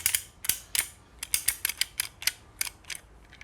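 A ratcheting pipe cutter clicks as it is worked, giving a quick series of sharp, close mechanical clicks in an irregular rhythm with no talking.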